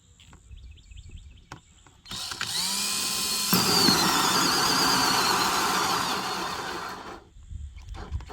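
A cordless battery drill runs steadily for about five seconds, loud and close, boring into a homemade automatic chicken feeder, then winds down and stops.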